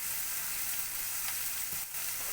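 Onion sautéing in a pan for a chicken stir-fry, giving a steady, soft sizzle throughout, with a couple of faint stirring scrapes and no talking.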